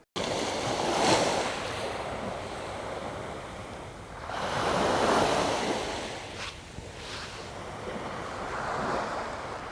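Gentle waves of calm ocean surf roll onto a Florida beach at sunrise, swelling and receding in slow, soft washes under a steady breeze with light wind noise on the microphone.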